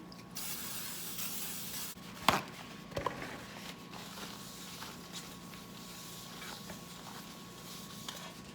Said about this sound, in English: I'm gonna use coconut Pam spray. So what I usually do is spray it in.